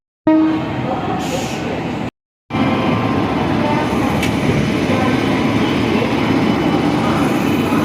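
A train pulls out from the platform at Prayagraj Junction amid a crowded festival day, giving a loud, steady rumble close by that is briefly cut and then resumes, with a faint horn-like tone early on and voices in the mix.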